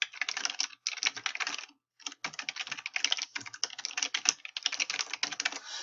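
Typing on a computer keyboard, close and steady, in quick runs of crisp key clicks broken by short pauses.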